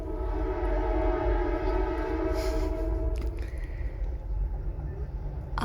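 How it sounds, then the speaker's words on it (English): A train rolls past, a steady loud rumble of wheels and cars with a sustained horn-like tone riding over it, constant throughout with no talking. "There's a train going by"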